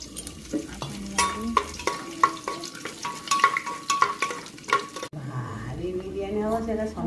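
Whole spices, bay leaf, cinnamon, cardamom and dried chillies, fry in a pan for a tomato rice dish, with sharp clinks of a spoon stirring against the pan over a steady sizzle. The last couple of seconds shift to a muddier, softer texture.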